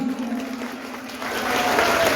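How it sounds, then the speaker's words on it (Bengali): Audience clapping at a school ceremony honouring students who passed their secondary and higher secondary exams, a steady dense applause that swells slightly louder toward the end with no talk over it. "একবার জোরে করতালি"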